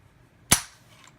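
A single sharp, loud snap from the trigger of an IWI Tavor rifle fitted with a Super Sabra trigger pack, dry-fired during a trigger pull test. The click is close and fades quickly into quiet.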